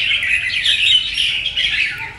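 A songbird, a prized wild-caught bulbul kept as a lead singer from the limestone mountains of Lạng Sơn, chirps and trills in a steady, bright stream with no gaps, loud and close.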